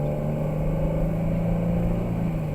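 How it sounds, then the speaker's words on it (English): Dodge Hellcat Charger engine accelerating while merging onto an expressway, a steady loud rumble with a constant drone heard up close and alone. "This car will be a little bit loud. It's a Hellcat Charger."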